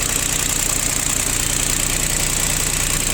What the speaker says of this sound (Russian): Здесь у нас трехцилиндровый мотор.